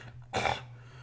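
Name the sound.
imitated choking sound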